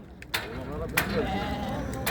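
Merino sheep bleat nearby at a livestock market in Çorum, Turkey, a wavering cry rising over a background of creaks, shuffling and a low murmur of voices.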